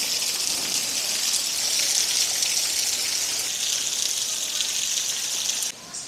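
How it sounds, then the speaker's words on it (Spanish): Heavy downpour falling on a house patio in Cuba, a dense, loud hiss of rain pouring steadily, easing slightly just before the end. "Miren cómo se ve el patio de mi casa, con el aguacero que está cayendo."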